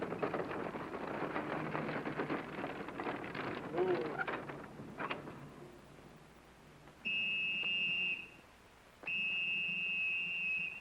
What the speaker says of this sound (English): stop blowing that whistle